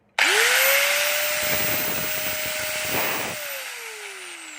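A DeWalt DWE8100S 720W small angle grinder switches on abruptly, spins up to a loud, steady high-pitched whine and keeps running close by at constant speed, with no talking.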